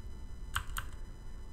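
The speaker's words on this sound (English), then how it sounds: "Excuse my very loud clicky keyboard." A loud, clicky computer keyboard, with two sharp key clicks close together about a quarter second apart, set over a faint background hum.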